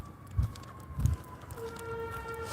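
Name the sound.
sirens of a fire truck and an ambulance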